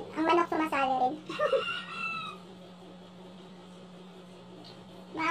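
A chicken clucks and squawks close by, its calls broken and uneven, with a faint steady hum continuing underneath.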